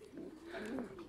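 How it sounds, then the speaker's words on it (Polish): Young pigeons coo softly in an aviary, one low rolling call at a moderate distance, faint and alone. "Tu mamy przy okazji wolierkę z gołębiami młodymi."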